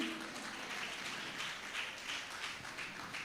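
An audience at a women's gathering claps together, a faint, steady patter of many hands that carries on without a break for the whole stretch.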